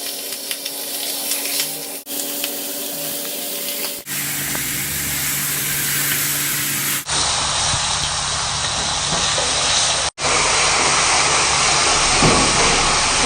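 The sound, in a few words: carnitas sizzling in a hot greased pan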